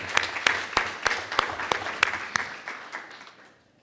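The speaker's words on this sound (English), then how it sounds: "Let's give her a round of applause." An audience at a board of education meeting gives a short round of applause, a light spatter of claps that starts briskly and then thins and fades out after about three seconds.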